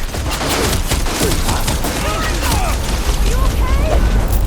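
Dense, continuous volleys of gunfire and heavy booms in a Horizon Forbidden West battle, loud and sustained throughout with no pauses.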